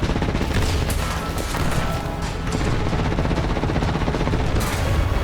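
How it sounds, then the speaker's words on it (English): Machine gun fire and combat explosions from a France-versus-Italy tank battle in War Thunder form a loud, dense, continuous barrage of rapid shots and booms, close and unbroken throughout, without voices. "even some of the machine guns can get right through."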